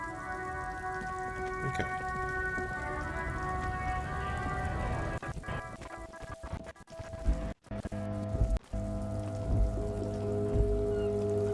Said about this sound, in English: Rain drips from the eaves and floods the gutters, washing the filth away.